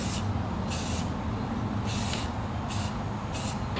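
Rustoleum Clean Metal Primer sprays from an aerosol can onto metal in five short hissing bursts, close and loud over a steady low background rumble.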